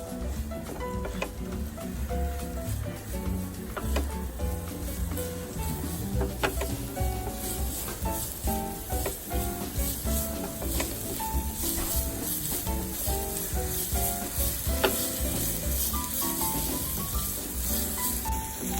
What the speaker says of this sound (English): the green chilies, spring onions and the ginger. Cook it on high flame.